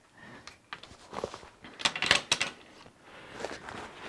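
A Godox S bracket being clamped and tightened, a series of close mechanical clicks and ratcheting snaps with a cluster of sharper clacks in the middle, no speech.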